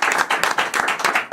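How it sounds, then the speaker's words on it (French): Audience applause at a French talent show with a hypnotist, dense rhythmic clapping from a nearby crowd, loud and steady for the whole moment with no talk over it. "on peut l'applaudir"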